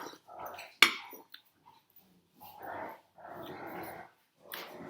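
Two pet dogs growl and scuffle while play fighting in the background, with low rumbling bursts coming and going, one sharp yelp-like spike early on, and quiet gaps between the growls.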